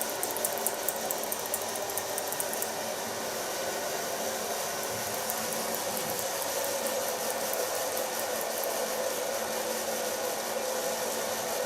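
A hair dryer blows steadily and loudly close by while short hair is dried into a pixie cut, an unbroken airy roar with no talking.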